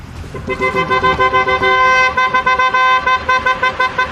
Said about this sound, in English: Go slow. Honk, honk.